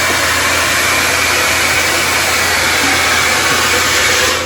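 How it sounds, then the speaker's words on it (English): A hair dryer blasting upward from beneath the hair, a loud, constant rushing whoosh of air with a motor hum underneath, steady from start to finish with no speech. "when you blow dry your hair like this from the bottom, you get more volume in your hair"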